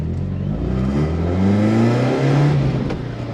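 A rare, light four-cylinder Mercedes pulls hard in third gear, its engine note climbing steadily in a rising rev sweep, heard close from inside the cabin with no talking.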